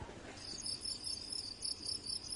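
Cricket chirping, steady and fairly close, a rapid high-pitched trill repeating over a low background rumble, with no voices.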